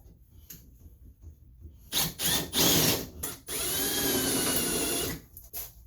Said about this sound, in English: And for that we're going to use a center bit.